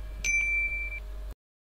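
A single bright notification bell ding rings out clearly and sustains for about a second before cutting to silence.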